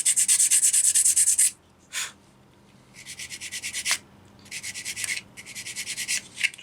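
Sanding paper rubs against a small model kit piece for an early Model T ambulance, bursts of close, hissing strokes starting and stopping in short rhythmic runs, no voices.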